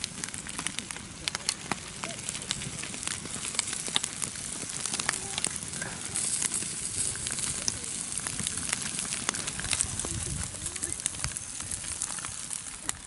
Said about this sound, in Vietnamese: Đừng cho lửa cháy to bên nữa